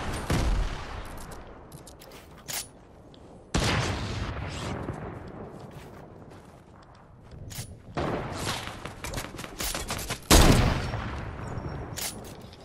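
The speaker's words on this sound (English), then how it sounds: "Nades are coming." Grenade explosions and gunfire from the video game Fortnite arrive in dense bursts of loud blasts and rapid shots, separated by brief lulls.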